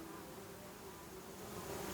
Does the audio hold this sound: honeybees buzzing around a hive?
yes